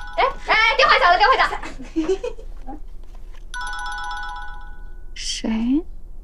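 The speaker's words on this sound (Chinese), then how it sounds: "电话响了" A telephone ringtone plays a bright, repeating electronic melody for about two seconds. People talk just before it, and a voice breaks in right after, in an indoor drama scene.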